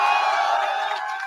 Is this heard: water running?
no